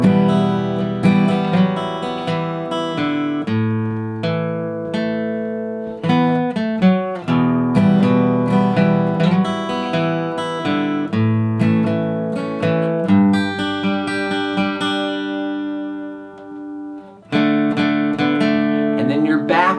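Guitar playing the bridge of a song, a continuous run of bright picked notes and chords in a steady driving rhythm, close and loud, with a brief pause near the end before strumming resumes.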